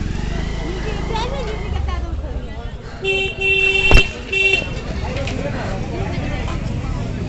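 A road vehicle drives past close by, its engine swelling with a couple of short horn toots midway before fading again, while people talk over it.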